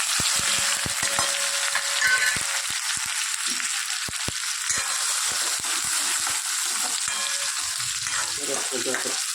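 Black-eyed beans sizzle and fry in hot oil with mustard seeds, green garlic, green chilies and tomato, a steady crackling hiss with scattered sharp pops throughout, close and loud, with no talk.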